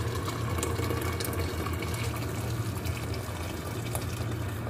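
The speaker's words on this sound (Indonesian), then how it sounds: "Sekarang aku tambahin air." Water pours steadily into a cooking pot for a soup made with Quaker oats and coriander, a continuous close rushing and splashing with no talk.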